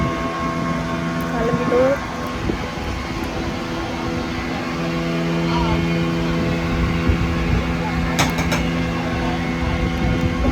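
A boat's engine drones steadily and evenly throughout the ride, a low humming rumble that carries under people talking close by.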